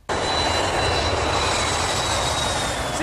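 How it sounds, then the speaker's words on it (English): An airplane engine roars loudly and steadily at close range as the aircraft takes off, a dense, even wash of engine noise that starts abruptly and holds for about three seconds. "planes take off and land toward the wind"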